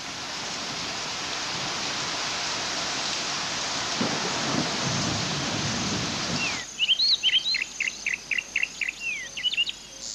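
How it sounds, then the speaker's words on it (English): Heavy rain pours down in a steady, loud hiss with a low rumble partway through, then cuts off sharply and gives way to quieter pulsing cricket-like chirps. "Only when the rain begins in earnest does Nkosi head for the shelter of the burrow."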